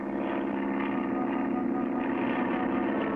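A steady engine drone with a propeller-like hum, continuous and fairly loud throughout, like a small plane flying low nearby.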